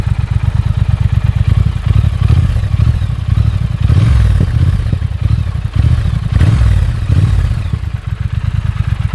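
A 2019 Triumph Speed Twin on stock exhausts revs loudly and close, its deep, throbbing engine rising and falling through several throttle blips with a steady pulsing idle between.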